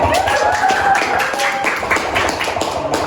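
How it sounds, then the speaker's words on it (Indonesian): Classroom applause for a ninth-grade student winner, a steady patter of many hands clapping throughout, with a few faint voices mixed in. "Alvina tuh, berikan tepuk tangan"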